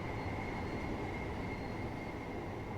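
Thameslink Class 700 electric train in Train Sim World 3, stationary during uncoupling: a steady broadband rumble of rail machinery with a faint constant whine, continuous and even throughout with no distinct events.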